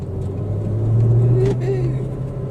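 Ford Mustang car driving slowly, a steady low engine rumble that swells briefly as it pulls away, heard from inside the cabin with voices talking over it.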